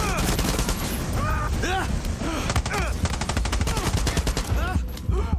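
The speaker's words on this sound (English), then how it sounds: "It's an assault rifle, though." Rapid, loud bursts of assault rifle fire in the Far Cry 6 video game, with shots close together through the whole stretch and a voice talking over them.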